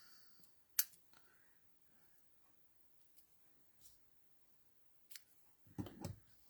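Scissors trimming ribbon tails on a handmade bookfold card, a few sharp isolated snips spaced apart in a quiet room, the last cut followed by a brief rustle.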